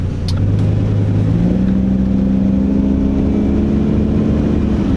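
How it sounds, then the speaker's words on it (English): A V10 truck engine idles roughly close by at about 500 RPM with a deep, uneven rumble that holds steady for several seconds, with no one talking. "idles, a little bit rough"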